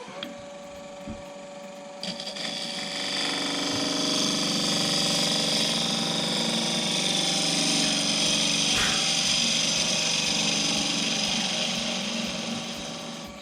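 Power sander working a wooden sphere, a steady loud whirring drone that starts after a brief quieter moment and runs continuously, with a faint voice briefly underneath.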